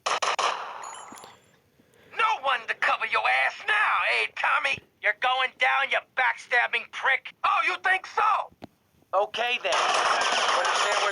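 Rapid bursts of GTA Vice City gunfire crackle loudly in quick volleys, separated by brief pauses, with a steady noisy roar before and after.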